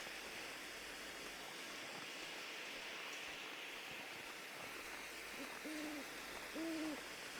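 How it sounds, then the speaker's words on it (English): Owls hooting at night in The Long Dark, two distinct hoots late in the clip over a steady wash of wind-like ambient noise, fairly faint and distant. "The owls."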